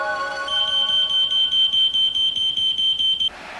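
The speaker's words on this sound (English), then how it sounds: "A smoke detector, also called a smoke alarm, is a must for fire safety in the home" A household smoke alarm sounds one loud, steady high-pitched tone for about three seconds before it cuts off sharply.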